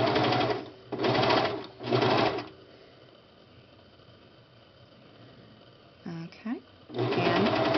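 A serger sewing machine stitches a fitted cloth diaper in three quick loud bursts with short pauses between them, then runs for one more burst at the end. A short spoken phrase comes between them.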